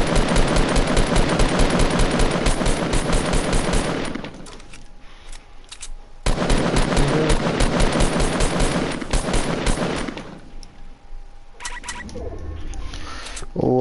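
Fortnite gunfire rattles in long, dense automatic bursts, loud and continuous for about four seconds, pausing, then firing again for several more seconds, with quieter game ambience in the gaps.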